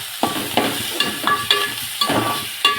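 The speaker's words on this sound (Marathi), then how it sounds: "मस्त असं खरपूस याला घेऊया भाजून" Dal chutney with coriander roasts in a pan with a crackling sizzle, broken by about six regular spoon scrapes and stirring clinks, close and fairly loud.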